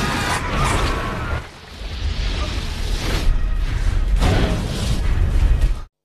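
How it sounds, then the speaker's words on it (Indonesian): A missile launcher explodes in a tank room in a zombie film: loud booming blasts and rumbling bursts roll through a dense cinematic mix, with a brief dip before the roar returns and cuts off abruptly. "Begitu sampai di ruang tangki, peluncur rudal pun mereka ledakan."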